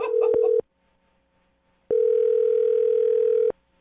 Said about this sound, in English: All right, I just dialed the phone number.